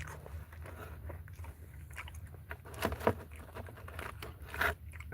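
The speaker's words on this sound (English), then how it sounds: "we over here eating on this good pizza" Close biting and chewing of pizza topped with pineapple, olives and meat, soft crunches and moist chewing in irregular bursts at low level, with no talk.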